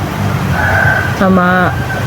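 A rooster crows once, a rising then held cock-a-doodle call, heard close against a constant low background rumble.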